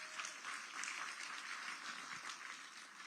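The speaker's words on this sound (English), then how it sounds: "yes, give them a round of applause." Faint, steady applause from an evening audience in a room, continuous and even throughout with no talk over it.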